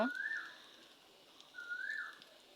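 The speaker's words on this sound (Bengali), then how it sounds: "তো শোনো পাখিগুলো কীরকম ডাকাডাকি করছে আপুরা," Two faint bird calls, each a short rising whistle, sound outdoors about a second apart over quiet background hiss near a clay-stove cooking spot.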